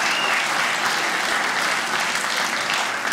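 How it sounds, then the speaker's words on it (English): Audience at a comedy show claps in a dense, steady burst of applause that fills the room, holding strong throughout before easing slightly at the very end. "Give him a round of applause."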